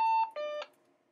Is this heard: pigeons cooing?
no